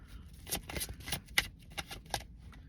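Tarot cards being shuffled and drawn from a deck, a string of crisp papery riffles and snaps at an irregular pace, close and fairly quiet with no talking.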